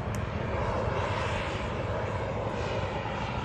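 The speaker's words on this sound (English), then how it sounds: "The entry-level jet seems to be a very popular item already." A model jet aircraft flies past at a noon-time demo at an RC flying event, its turbine giving a loud, continuous, steady roaring whoosh with no voices.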